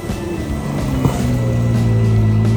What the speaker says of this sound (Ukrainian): цей раз так мотор почули